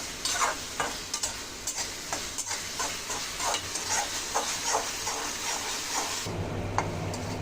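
Spice tempering for vada pav filling sizzles steadily in a pan, with frequent scraping stirs cutting through the hiss; the frying continues alone, near and fairly loud, before a quieter, duller stretch at the end.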